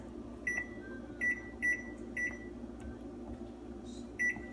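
A kitchen oven timer sounds a series of short, evenly spaced electronic beeps, moderately loud over a low steady hum, with a brief pause before one final beep.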